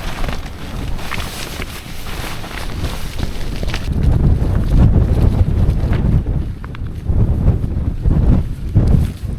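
Strong wind buffets a tent campsite, loud gusty roaring and rumbling against the microphone that swells and surges unevenly throughout.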